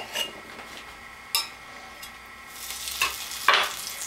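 Butter sizzles in a hot skillet for French toast with a soft, even hiss, punctuated by scattered clinks and scrapes of a utensil against the pan, building slightly louder toward the end.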